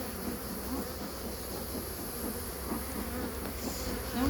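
Honeybees swarming around an open hive during a garden hive inspection make a dense, continuous buzz that holds steady and close for several seconds, with no voices over it.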